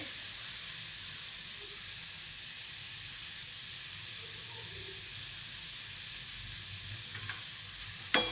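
Grated radish mixture sautés in a pan, giving a steady soft sizzle and hiss with faint stirring and a brief scrape near the end, close and continuous.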